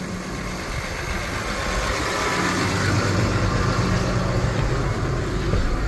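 A tractor engine runs steadily and close during seeding of an alfalfa and grass mix, giving a dense, unbroken rumble and mechanical vibration that swells slightly louder midway, with no voices.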